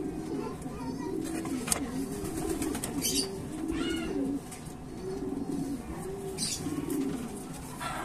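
Soft, repeated pigeon cooing in low rolling phrases, close by, with someone talking over it and occasional rustling.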